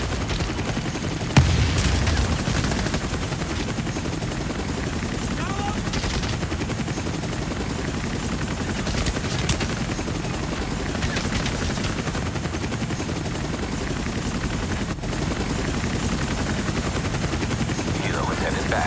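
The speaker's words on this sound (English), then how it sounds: "Helo is headed back." A helicopter in The Division Resurgence video game flies with a steady, dense rotor drone throughout, mixed with bursts of in-game gunfire, while players talk over it.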